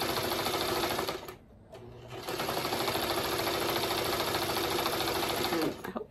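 A sewing machine stitching through pinned layers of a scrap and crumb block quilt, a steady rapid mechanical whirr running close and loud, briefly pausing once before resuming without talk.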